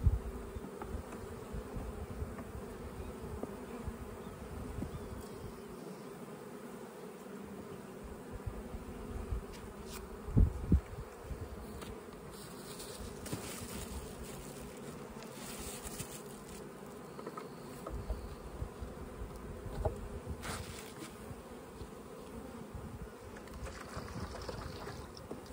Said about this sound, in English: Another brood frame dripping of bees.